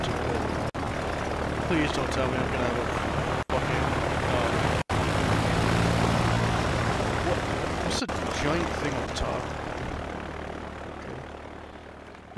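Propeller airplane engine in a WW2 video game: a steady, loud droning hum that holds throughout, with a few abrupt brief dropouts and a voice talking over it.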